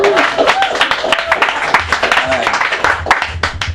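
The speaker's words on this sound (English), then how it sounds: "let's give a round of applause for him" Audience applause fills the room, a dense, steady patter of many hands clapping throughout, with crowd voices mixed in.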